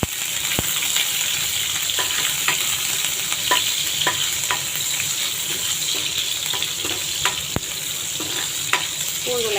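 Garlic sizzling in hot oil after mustard seeds have popped, a steady close frying hiss with scattered sharp crackles and pops, while a brinjal stir-fry gets under way.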